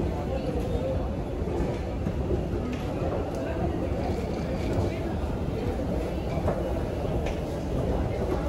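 Bangalore metro train running, a steady broadband rumble and rail roar filling the carriage with faint higher squeals; voices murmur faintly underneath throughout.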